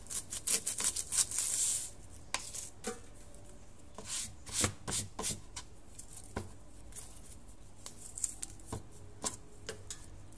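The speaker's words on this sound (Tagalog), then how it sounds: "magdagayat tayo ng sibuyas" A knife chops onion against a cutting board in a steady run of crisp, close taps, with brief pauses between bursts.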